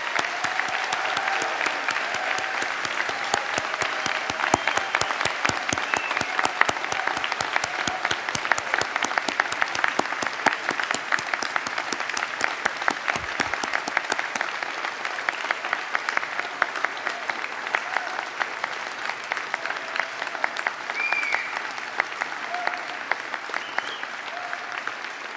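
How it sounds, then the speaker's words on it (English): Steady, continuous applause from family, friends, faculty and staff at a 2018 spring university convocation, sustained crowd clapping that keeps an even level throughout the long stretch. "I would ask family, friends, faculty, and staff to join me in applauding each of you on the completion of your program."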